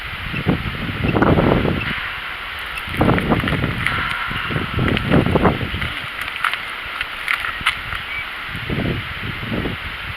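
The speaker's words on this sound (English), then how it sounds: "It's a bit hard tonight because there's too much wind blowing about, isn't it?" Gusty night wind outdoors at a pit site, buffeting the microphone in several low, rumbling bursts that rise and fall over a steady faint hiss.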